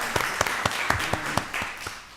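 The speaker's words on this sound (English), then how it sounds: "Let's give Madam Clerk a round of applause." Scattered, uneven clapping from a small audience at a county board of commissioners work session, a handful of sharp claps spread across a couple of seconds in a meeting room.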